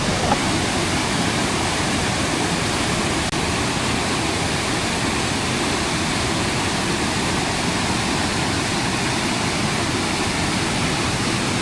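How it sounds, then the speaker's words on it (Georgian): The Toba waterfall in Georgia, the country's tallest, drops 234 metres in cascades, giving a steady, loud, broadband roar of falling water with no break across the whole stretch. "234 მეტრია ტობას ჩანჩქერი საქართველოში ყველაზე მაღალი კასკადად ეშვება"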